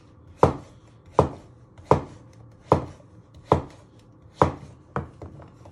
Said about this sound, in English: Then you want to cut it into medium cubes.